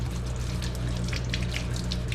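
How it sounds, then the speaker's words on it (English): Potato scrubbed with a brush under a running kitchen tap, a steady close hiss of flowing water with faint scraping bursts layered over it, continuous throughout with no talking. "When I wash my potatoes, I use a brush like this, and I just get it under the water and start scrubbing it pretty good."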